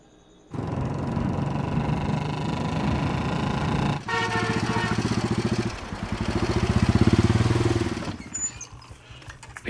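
A motorcycle engine runs close by, idling with a steady throb and then revving into a louder, pulsing surge before dropping back, with no voices over it.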